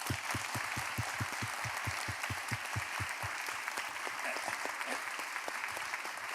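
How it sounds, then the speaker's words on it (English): Audience applause at the close of the 2019 FL-DSSG Big Reveal, a steady patter of individual claps with distinct close hand claps standing out over a fainter crowd, continuous throughout. "make sure we give everybody a big round of applause as we go away"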